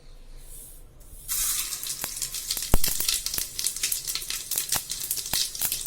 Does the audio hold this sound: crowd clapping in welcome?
no